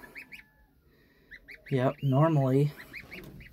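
Mother goose beside her goslings gives two loud, drawn-out nasal honks, with high thin peeping from the babies scattered around them and a brief spoken remark.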